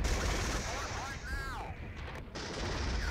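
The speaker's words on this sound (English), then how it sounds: "Come on, you guys, fire. Mortar units preparing to open up." T-55 tanks and mortar units fire in the wargame Regiments, making a dense, continuous rumble of gunfire and blasts at moderate loudness, with a brief whistling shell sweep partway through.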